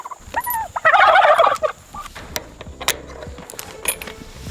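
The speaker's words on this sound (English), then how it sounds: "These big white turkeys are the Cornish cross of turkeys, just a fast growing turkey." Big white fast-growing Cornish cross turkeys gobble in a loud, bubbling burst close by, followed by scattered clucks, rustling and small clinks in a farmyard setting.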